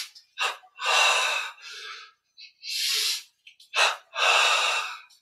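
Deep breaths drawn in and let out during a guided meditation, with a series of loud, close, airy inhales and exhales that come in uneven pulses and short pauses between them, with no talk.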